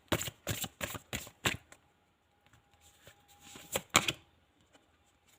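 Tarot cards being handled and drawn from a deck, a quick run of crisp shuffling snaps and flicks up close, then a quieter pause with soft rustling and another brief burst of card flicks.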